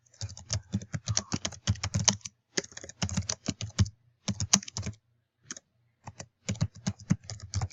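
Fingers type on a computer keyboard in quick clattering bursts of close, crisp key clicks, broken by short pauses and resuming several times.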